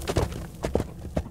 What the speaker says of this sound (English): especially due to the impact of the hooves of his horse on stony grounds.